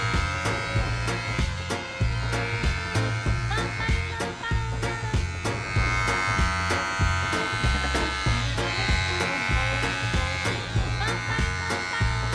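An electric hair clipper fitted with a 1.5 guard buzzes steadily while cutting hair upward on a pixie cut, its hum pulsing in short repeated strokes close by.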